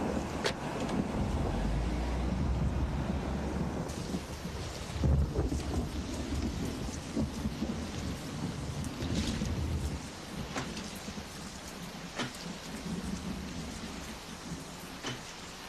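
Steady heavy rain pours throughout, with low rumbles of thunder rolling beneath it and a few sharp drip-like ticks, all loud and close with no voices.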